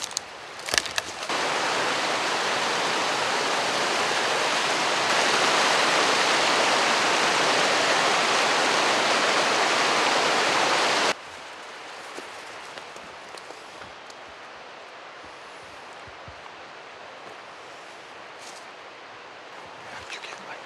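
Loud rushing stream water fills the first half with a dense steady roar, then drops abruptly to a much quieter, distant flowing hiss.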